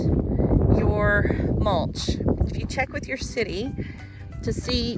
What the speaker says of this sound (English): It's a little bit windy, sorry about the noise.